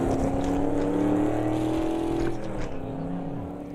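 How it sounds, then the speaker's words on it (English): A Corvette race car engine roars in Automobilista 2 at Estoril, a loud steady drone that holds its pitch, then drops abruptly off throttle and settles into a lower burbling note. "let's listen to some absolutely glorious Corvette power"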